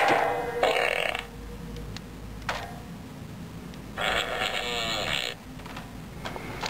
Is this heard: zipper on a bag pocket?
no